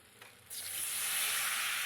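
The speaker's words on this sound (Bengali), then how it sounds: "এখানে অল্প করে জল দিয়ে দিলাম" A little water poured onto hot frying spice paste in oil bursts into a loud hissing sizzle after a brief quiet moment, then holds steady and close.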